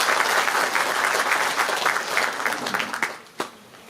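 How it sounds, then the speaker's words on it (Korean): Audience applause at a book concert for a preliminary election candidate: a crowd claps steadily and loudly, thinning out into a few scattered claps near the end, with faint voices underneath. "다시 한번 민천식 작가님께 뜨거운 박수 보내주시겠습니다"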